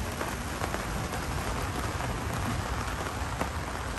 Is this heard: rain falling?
yes